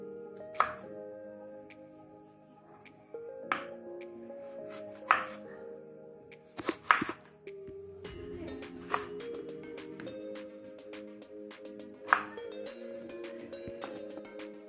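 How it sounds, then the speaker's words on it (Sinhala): Young jackfruit being chopped for curry, sharp knife strikes landing at irregular intervals, several seconds apart, against a quiet room background. "ඉතින් පොලස් කෙරිය කපා ගන්න ඕනේ මුලින්ම"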